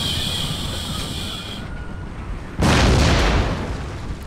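Artillery cannon fire during a siege of Istanbul in Empire: Total War, a steady rumbling battle din that jumps into a louder, broadband blast of gunfire partway through, with no talk over it.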